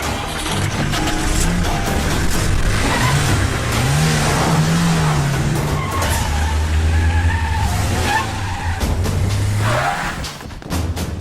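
A car pulls away in a film scene, its mid-pitched engine revving and rising over a steady rumble with a brief tire skid, loud and close throughout before easing off at the end.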